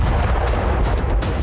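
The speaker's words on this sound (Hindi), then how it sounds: "करमनशाह में ही इजराइल ने खार्स एयरपोर्ट पर कई धमाके किए।" Loud, heavy booms and blasts from Israeli strikes on an airport in Kermanshah, Iran, rumble together in a dense, continuous barrage, with sharper cracks breaking through.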